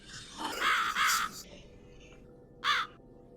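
Crow cawing in the video game The Cat Lady, three harsh caws, two close together and a third after a pause, over a quiet hiss.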